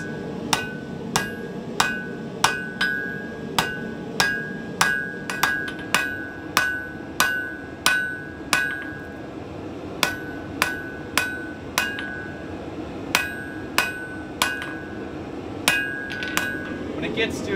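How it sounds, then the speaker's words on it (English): A hammer strikes hot wrought iron on the edge of an anvil face in a steady forging rhythm, about one sharp ringing blow per second. A short pause falls midway, and a faint workshop hum sits underneath. "I'll be using the edge of my hammer and the edge of my anvil face"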